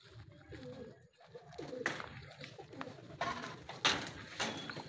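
Pigeon cooing near a racing pigeon loft in Pagsanjan, Laguna, soft low coos with some clatter and faint background noise.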